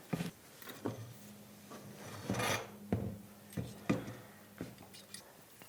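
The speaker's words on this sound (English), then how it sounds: "the next step has us sliding the main gantry unit onto this frame" A CNC gantry unit scrapes and rubs in short rasping pushes as it slides onto its frame, close and fairly quiet, with a faint low hum beneath.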